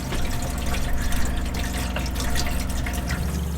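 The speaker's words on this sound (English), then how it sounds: "there's just a steady drip, and it's fallen onto cast iron and this piece of wood right here" A steady drip from under a faucet falls onto cast iron and a piece of wood, a close, continuous watery patter with no talk.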